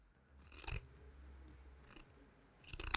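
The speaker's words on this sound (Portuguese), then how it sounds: "Estou cortando na tesoura, mas pode ser no cortador também." Scissors snip through fabric while trimming a patchwork seam allowance, giving three close, crisp cutting bursts separated by short quiet pauses.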